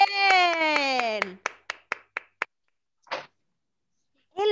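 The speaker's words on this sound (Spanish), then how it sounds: "Un aplauso para el Joaquín" Children in an online kindergarten class clap briefly, a short burst of scattered claps heard faintly over a video call right after an adult's voice, with another voice joining at the end.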